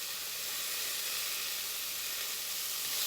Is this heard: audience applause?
no